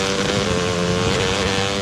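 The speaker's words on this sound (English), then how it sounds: "You wouldn't ride your dirt bike blindfolded." A dirt bike engine drones loud and close in a sustained, buzzing roar with a fairly constant pitch, no speech.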